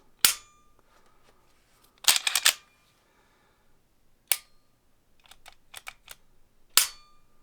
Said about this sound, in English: nice crisp solid brake, and then the reset. Nice tactile looking or sounding click.